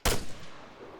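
A single sharp rifle shot from ARMA 3 cracks loud and close, then a short rumbling tail fades away. No other sound follows.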